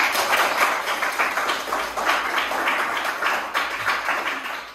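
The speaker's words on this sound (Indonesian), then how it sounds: "Beri tepuk tangan dulu untuk Anda" A classroom group claps for a student's correct answer, steady dense applause sustained throughout at close range, with no voices over it.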